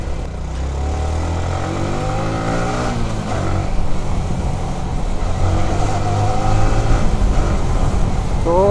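Yamaha R15 V3 motorcycle being ridden, its engine giving a loud, close, continuous drone whose pitch climbs and dips as the revs rise through the gears, with no talk over it.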